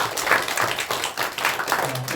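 A church congregation claps in thanks during a worship service, dense continuous applause from many hands filling the room loudly.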